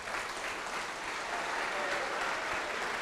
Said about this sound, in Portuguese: Vamos aplaudir a palavra de Deus.